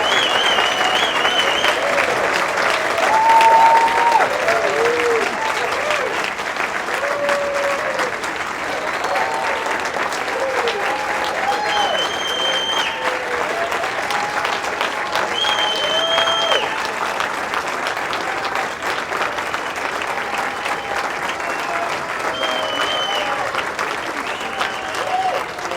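Sustained audience applause at a community radio station's 40th anniversary event, a dense steady wash of clapping lasting throughout with faint crowd murmur and brief whistles or cheers mixed in.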